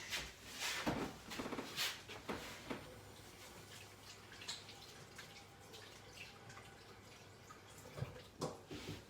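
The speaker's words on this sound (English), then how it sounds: "I'll just give my hands a quick wash." Running water splashes faintly as floury hands are rinsed in a home kitchen while baking cinnamon rolls, a soft steady wash broken by a few louder drips and knocks.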